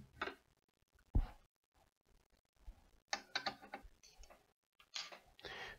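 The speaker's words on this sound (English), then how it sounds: "I can also take off these side covers here to gain access to the paddle shifters" Side covers being taken off a PMT universal hub for a sim racing wheel give a few short, faint mechanical clicks and snaps, spaced irregularly with quiet gaps between them.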